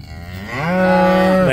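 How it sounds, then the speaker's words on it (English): A single cow in a pasture gives a loud, close moo that rises in pitch and swells into a long sustained bellow, with no talking. "Some nice cows here."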